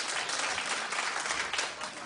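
Brief, dense clapping from a talk-show studio audience, steady and fairly loud for about two seconds.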